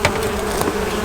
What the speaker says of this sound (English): Bees! Hi! Hi, bees.